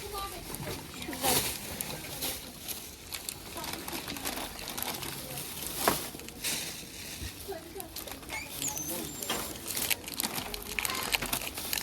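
Thin plastic shopping bags crinkling and rustling in repeated bursts, close and fairly loud, while people talk throughout and birds coo faintly in the background.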